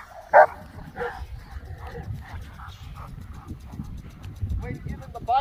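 A protection dog barking aggressively at a decoy on a watch command, with one loud sharp bark followed by fainter yips and scuffling under ongoing talk.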